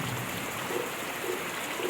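First rain of the season falling on farmland, a steady close hiss of rain without a break.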